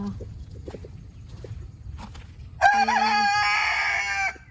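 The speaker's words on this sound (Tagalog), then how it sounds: "ang ingay ng manok." A rooster crows loudly nearby on a farm over scattered chicken clucking and faint background chatter.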